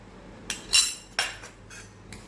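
A spoon stirs chili pieces into lemon pickle in a bowl, giving a few sharp metallic clinks and scrapes spaced apart over a quiet background.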